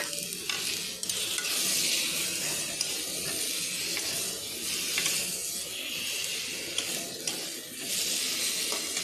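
Fried fish added to masala in hot oil for a simple Bengali fish curry, giving a continuous close sizzle with repeated scraping stirs and no talk.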